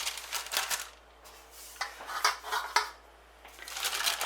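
A metal baking tray clatters as it is picked up and set down on a kitchen counter while a family-size sausage roll is made, giving a few bright, close knocks and scrapes with short pauses between them.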